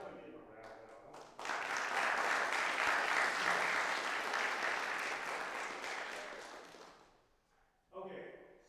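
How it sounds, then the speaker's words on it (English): Audience at a university lecture on weather forecasting applauds, a swell of steady clapping that rises suddenly, holds for several seconds and fades away, with a voice talking before and after. "why don't we give him a round of applause?"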